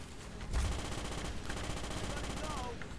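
Rapid automatic gunfire rattles without pause in the 2005 video game Starship Troopers, a dense continuous burst of shots beginning half a second in, heard at a low level.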